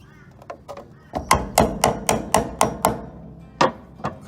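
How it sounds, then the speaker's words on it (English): Sharp hammer taps on asbestos material, a few scattered then a steady run of six evenly spaced strikes, followed by two more, close and distinct against a quiet background. "Couple of taps, keep spraying, keep repeating this process."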